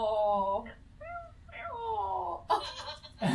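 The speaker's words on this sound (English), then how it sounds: "Yeah, he's a cat." A cat meows several times in a row, rising and falling cries of varied length, close and fairly loud, followed by rustling and handling noises near the end.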